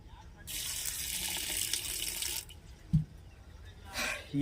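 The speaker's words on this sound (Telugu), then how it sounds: "కాస్త వాటర్ వేసుకుని" Water pours into a mixer jar of chutney being made in a home kitchen, a steady splashing stream lasting about two seconds, followed by a brief clunk and a short second pour.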